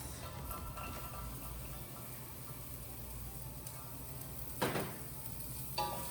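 Diced carrots sauté in a pan with onions and garlic for coq au vin, a soft, even sizzle that runs the whole time, with a couple of brief utensil clatters near the end and no voices.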